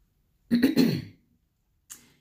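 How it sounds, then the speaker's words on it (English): A short, rough throat clearing, close and fairly loud, followed by a brief faint rasp after a pause. "clear my throat"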